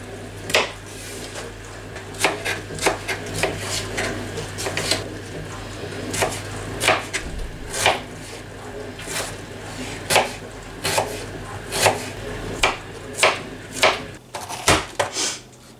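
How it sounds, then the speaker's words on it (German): Vegetables for a Bolognese being chopped by hand with a knife, a string of sharp, irregular knocks on a board repeating about once a second, close and moderately loud over faint background hum. "alles andere schnippel ich jetzt per Hand einfach nur ganz klein"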